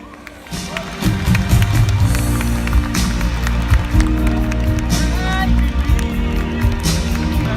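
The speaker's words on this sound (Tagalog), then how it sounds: "Mahina mga palakpak yun!" An audience at a kickoff training event claps in loose, scattered bursts over a steady low musical hum, fairly close and moderately loud, with voices carrying through the crowd noise.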